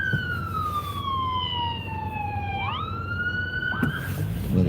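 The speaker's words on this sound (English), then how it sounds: "It's a fire engine, I think. Going to turn his sirens on any second." A fire engine's siren wails on a foggy night road near Wigan, UK, heard from inside a moving car. It sweeps steadily down and then back up, loud and close over the road rumble, and a brief burst of noise comes at the end.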